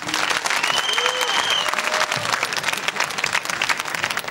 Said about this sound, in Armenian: եկեք ծափարենք իրոք